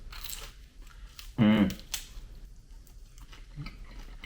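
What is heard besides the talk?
biting into crispy air-fried salmon skin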